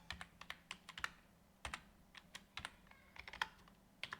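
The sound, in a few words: typing a name on a computer keyboard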